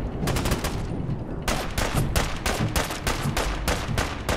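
Rapid bursts of automatic gunfire in Fallout 4's Nuka World, a dense string of loud, closely spaced shots with a brief lull before a second volley of sharp, regular cracks.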